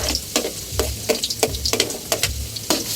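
Thinly sliced garlic frying in a hot pan while dinuguan is cooked, giving a steady close sizzle broken by frequent sharp crackles and pops, with no voices.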